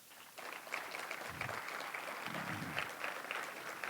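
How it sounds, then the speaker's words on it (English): Conference audience applauding the event sponsors, a steady wash of clapping that holds at an even level throughout. "a quick round of applause because they put in a lot of money"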